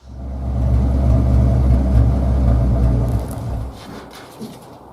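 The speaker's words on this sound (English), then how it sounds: "Here's the car going in reverse all by itself." A car rolling backward on its own, with a close, steady low rumble that fades toward the end.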